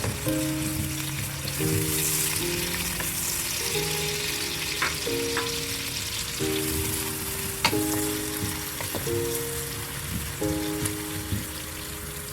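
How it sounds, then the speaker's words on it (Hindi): Onions fry in hot oil with a steady, soft sizzle, occasional sharper pops over a constant crackle, with faint tonal music behind. "ये अभी प्याज फ्राई हो रहा है"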